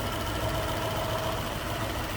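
A 1932 Ford Model 18 Roadster with rumble seat idles smoothly nearby, an even, continuous low mechanical hum with no revving or pauses.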